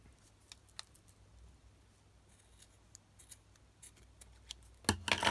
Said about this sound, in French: Et là il ne nous reste plus donc qu'à le couper.